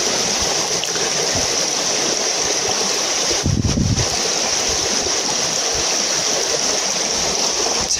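A river flows steadily nearby, a constant rushing wash of water, while a freshly hardened knife blade is scrubbed clean with sand at the bank, with a brief louder splash partway through.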